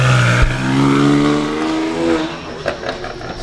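A BMW car engine holding a loud, steady rev that rises and then eases off, with a brief thump near the start and a few clicks as it winds down.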